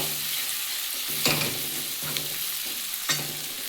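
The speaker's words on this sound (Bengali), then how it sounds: "এক চামচের কম লঙ্কার গুঁড়ো পরিমাণ মতো হলুদ দিয়ে বন্ধুরাটা ভালো করে একটু কষিয়ে নেব" Spices with chilli powder and turmeric fry in oil for a fish curry, a continuous loud close sizzle with three distinct stirring scrapes at regular intervals and no voices.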